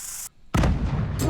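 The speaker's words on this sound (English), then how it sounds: "Boom, little explosion." A short explosion effect from a digital card game animation: one sudden, full-bodied boom with a noisy rumbling tail that fills the moment, preceded by a brief bright tone and a gap of silence.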